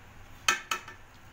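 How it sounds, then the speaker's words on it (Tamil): A pot of cooked pearl millet rice being opened, heard as two quick metallic clinks of a lid close together, near and fairly quiet, with no talk. "இப்போ நம்ம கம்மஞ்சோறு எப்படி இருக்குன்னு ஓப்பன் பண்ணி"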